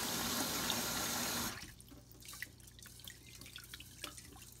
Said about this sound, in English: first we have to wash the rice to get rid of the dirt from the rice